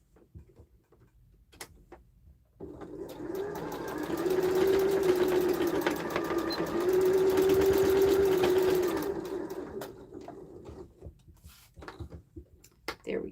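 A sewing machine stitches back and forth across a sling bag in a steady, rapid mechanical whir that runs for several seconds. Quieter ticks and handling sounds come before and after it.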